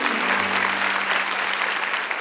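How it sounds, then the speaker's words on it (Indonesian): A church congregation applauds during a service, a dense, steady wash of clapping from many hands that holds throughout, with a low sustained hum underneath. "Kasih tepuk tangan untuk mereka."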